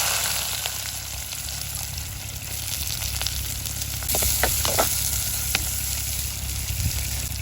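Onion and fennel seeds frying in hot oil in a village-style kitchen, a steady close crackling sizzle with scattered pops and occasional stirring scrapes, no talking.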